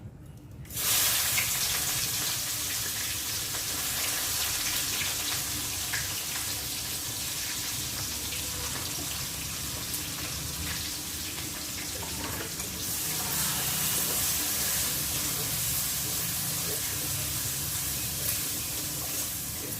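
Onion and spices frying in hot oil for a crab and potato curry, giving a steady, close, loud sizzling hiss that carries on throughout with a brief surge partway in.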